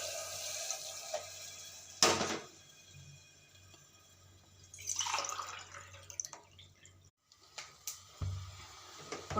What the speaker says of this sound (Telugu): అందులోకి ఇప్పుడు వాటర్ పోద్దాము